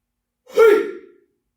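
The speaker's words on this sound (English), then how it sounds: "Breathing in." A single slow inhalation through the nose during a Qigong strength session, one close, soft breath rising and fading within about a second, alone in quiet surroundings.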